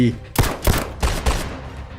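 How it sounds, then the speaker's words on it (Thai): Four sharp gunshots ring out in quick succession, each with a short echoing tail. "พร้อมกับเสียงปืนที่ดังตามมาทันที"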